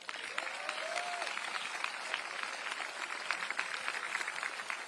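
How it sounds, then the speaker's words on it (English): Steady applause from a graduation crowd at a Hawaii high school commencement ceremony fills the space, a dense, even wash of clapping that holds for several seconds at moderate loudness. "Let's give them a round of applause."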